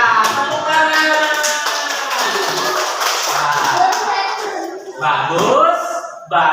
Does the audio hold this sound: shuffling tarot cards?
no